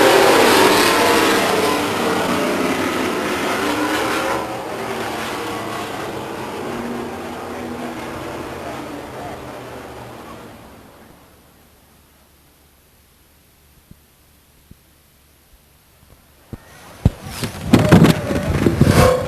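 Race truck engines roar loud and steady at Stockton 99 Speedway, a dense broadband drone that fades away to near silence midway, then returns with sharp pops and bursts toward the end.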